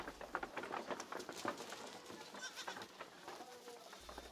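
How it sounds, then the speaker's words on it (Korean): Goats on a village goat farm bleat repeatedly nearby in overlapping calls. Faint rustling and shuffling run between the cries, and there is no speech. "현재 110마리의 염소를 관리하고 있습니다."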